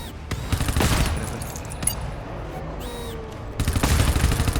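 Gunfire from the video game GTFO, a few sharp shots at the start and middle, then a loud rattling burst near the end, with a quieter stretch between.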